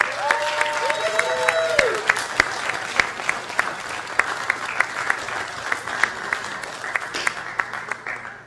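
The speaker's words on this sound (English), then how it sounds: "Let's give all these lovely ladies a round of applause." A pageant audience in Placerville, California, claps for the contestants in a loud, sustained round of applause. A few voices rise over it early, then it settles into a steady patter with crisp individual claps.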